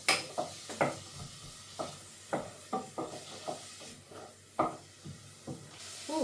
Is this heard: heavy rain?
no